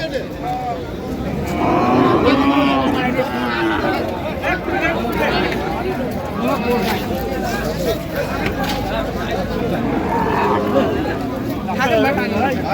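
Cattle lowing at a busy livestock market where thin, bony cows are being sold, occasional moos rising out of constant crowd chatter and nearby voices talking throughout.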